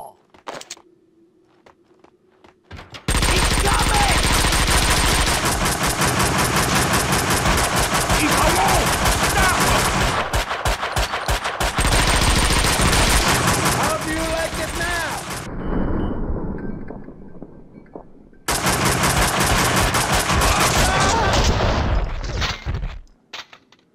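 Sustained automatic gunfire in the shooter game Max Payne 2, loud dense rapid bursts that run for long stretches, break off into a short quiet gap with faint tones, then resume hard before stopping.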